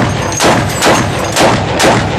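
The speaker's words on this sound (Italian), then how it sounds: "Ma adesso io sparo." Four loud, sharp gunshots fired in quick succession during a battle in Nasiriyah, Iraq, each a broadband blast with a short ringing tail, over steady background noise.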